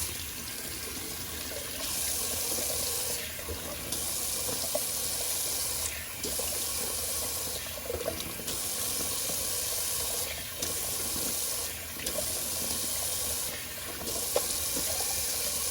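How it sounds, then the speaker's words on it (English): Cold water runs steadily from a tap for a rinse while shaving, its rushing hiss cutting in and out several times as the flow is turned on and off. "let's do a little cold water rinse."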